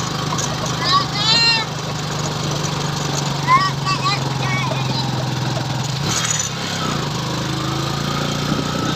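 A tricycle engine labours while climbing uphill at Tala River Park in Bailen, Cavite, a steady close motor drone that shifts near the end, with someone talking over it throughout.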